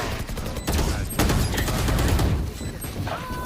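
Rapid bursts of automatic gunfire fill an online multiplayer shooter match, dense and loud throughout with overlapping shots and small impact crashes.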